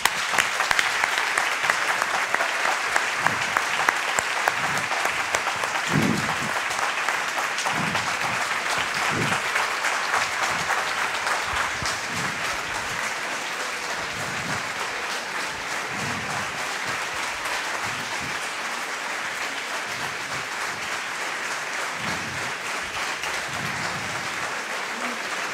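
A large audience at an award ceremony applauds steadily, a dense wash of clapping that carries on without pause from start to finish.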